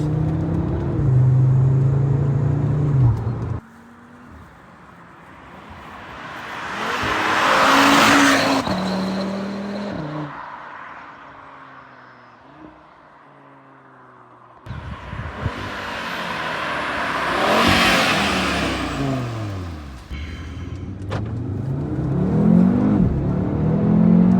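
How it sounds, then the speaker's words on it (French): A Cupra Formentor VZ5 five-cylinder engine roars through two long pulls, rising in pitch as it accelerates hard, easing off in between, then building again, loud and close. "je sais pas si vous entendez bien un 5 cylindres"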